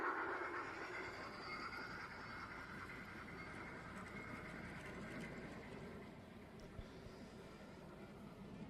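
A small live steam garden railway train runs steadily nearby, a soft continuous rumble and hiss with faint clicking, fairly quiet throughout.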